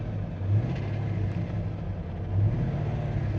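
Corvette LS3 V8 idling steadily with the injector cut on one cylinder, a close, even low rumble with two brief swells, no rattle standing out.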